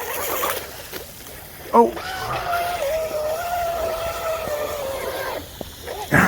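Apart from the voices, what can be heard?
RC outrigger boat with 3000kv motor running on water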